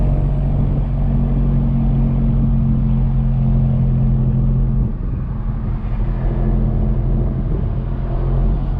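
A Volkswagen MK7 GTI fitted with a Mamba GTX3071R turbo and front-mount intercooler drives along, its engine a loud, steady droning rumble heard from inside the car, easing slightly partway through, with no talk.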